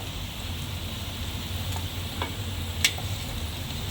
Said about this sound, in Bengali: আর এটাকে একটু ভালো করে নাড়াচাড়া করব যাতে ক্যাপসিকামও একটু নরম হয়।